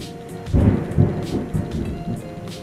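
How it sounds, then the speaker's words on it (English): Thunder rumbles through a storm with rain falling steadily, the deep rolling booms swelling in several bursts over the constant patter. "when the lightning comes, it's like no seconds to count before the rumbling comes"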